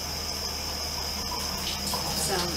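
Rusty cast iron skillet rinsed under a running tap, a steady close rush of water that continues without a break.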